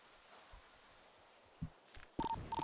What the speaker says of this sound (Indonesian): Bentar aku telepon